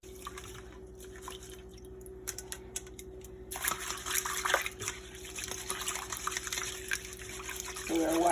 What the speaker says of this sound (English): So we're washing the rice.